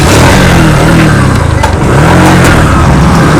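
A loud motorcycle engine drones and revs close by, continuous and rough, its pitch rising and falling slightly over a few seconds.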